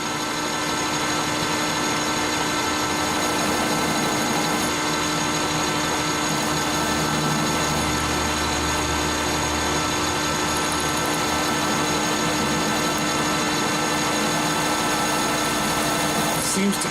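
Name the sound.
center drill bit drilling 303 stainless steel at 680 RPM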